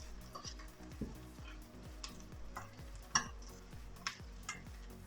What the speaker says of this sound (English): So just allow it to fry for a few seconds